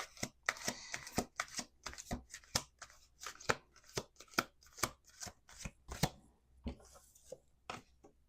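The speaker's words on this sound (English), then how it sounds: "Let's do two more shuffles." Tarot cards are shuffled in quick, crisp riffles and snaps, a close, irregular series of sharp flicks with faint rustling between them.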